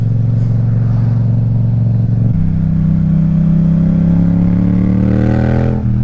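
A motorcycle accelerates on a mountain road in the Serra do Caramulo, Portugal. The close, loud engine drone holds steady, drops at a gear change near two seconds, then climbs in pitch as it pulls harder. No one speaks.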